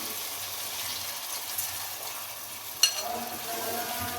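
Water poured into a pan of sizzling potatoes and peas, a soft steady frying hiss with a sharp splash-burst partway through, followed by continued sizzle; no voices.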